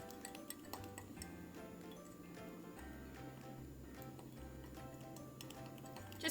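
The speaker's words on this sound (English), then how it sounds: "You want to take a fork and mix them together." A fork clinking quickly against a mug while it mixes dry ingredients with baking powder, a faint, rapid, irregular ticking that goes on throughout with low hum underneath.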